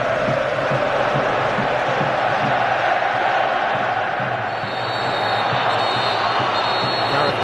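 Dense, loud crowd roar from the Wembley stands during the England vs Croatia Euro 2008 qualifier, a sustained wash of cheering and chanting that never lets up.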